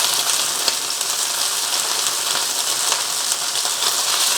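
Beef pieces searing in a hot pan for takeout-style Chinese beef and onion, giving a steady, loud, close sizzle with a dense crackling hiss and no talking.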